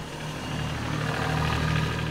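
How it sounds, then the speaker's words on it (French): A tractor engine rumbles steadily at idle, a low continuous drone with no voices, holding an even level throughout. "C'est le tracteur de Christian"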